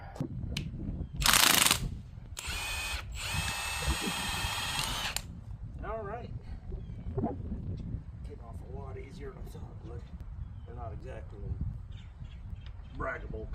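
Two loud, rattling bursts of an impact wrench hammering a bolt on an International Farmall tractor, followed by quieter clinks and occasional speech.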